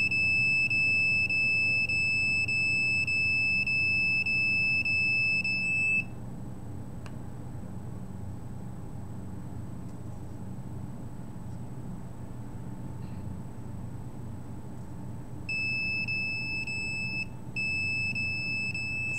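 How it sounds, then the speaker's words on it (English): A smoke alarm, set off by a nearby cell phone receiving a signal, gives rapid high-pitched beeps for several seconds, falls silent for a long stretch, then starts beeping again, over a steady room hiss. "the cell phone is setting off the alarm when the cell phone is receiving"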